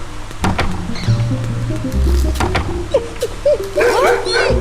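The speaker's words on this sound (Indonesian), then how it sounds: "jadi anjingnya itu saat kita ketahuan dia menggonggong teman-teman" A dog barks in the mobile game Robbery Bob, several sharp yips and whimpers in quick bursts over game sound effects and music, with a person talking over it.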